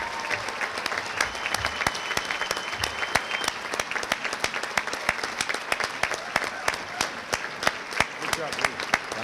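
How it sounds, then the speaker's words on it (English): A large crowd applauds a hall of fame inductee at a state high school athletics induction ceremony, with sustained, dense clapping at an even level throughout. Sharp individual claps stand out near the front, and voices murmur underneath. "Please, a round of applause for Mary St."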